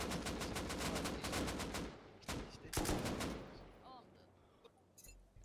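Gunfire during a raid in the survival game Rust, rapid bursts of automatic shots, loud and close, then a few heavier single cracks fading into quieter distant pops, with a voice briefly heard.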